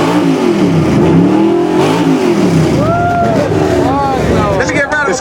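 A Chevy engine revs hard at an outdoor car show, loud and close, its pitch sweeping up and down in repeated rises over a rumbling background with voices faintly mixed in.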